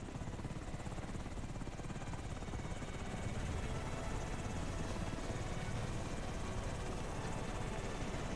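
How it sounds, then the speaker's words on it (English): Helicopter in the video game SOCOM 3, a steady, dense rotor and engine roar that stays constant and fairly loud throughout, with no voices over it. "Everybody's on the helicopter, nice and safe."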